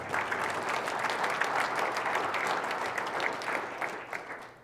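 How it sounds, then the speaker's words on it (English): An audience at an avalanche education talk breaks into applause, a steady wash of many hands clapping that holds evenly and then tapers off at the end. "I think this earns some applause for Joe."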